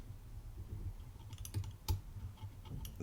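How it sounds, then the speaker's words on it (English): A pick works the pins of a Yale lock, producing soft, sparse clicks close by with two sharper snaps standing out against a quiet low rumble. "Nice big click there."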